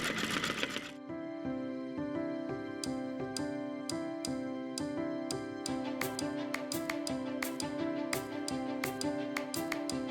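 Sewing machine stitching over earlier stitches on a greeting card: a steady, fast mechanical whirring with rhythmic ticking clicks, running continuously for about ten seconds after a short burst of noise at the start, fairly quiet with no talking.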